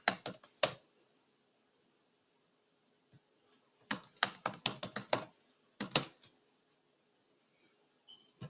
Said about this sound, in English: Typing it here.